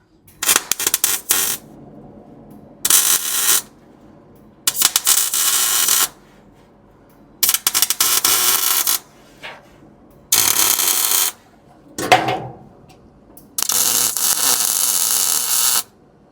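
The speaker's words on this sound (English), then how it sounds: "I'm going to weld this in." Welding a metal back-end support onto a custom 1968 VW: several loud bursts of crackling, buzzing arc noise, each lasting a second or two, separated by pauses of quiet hum.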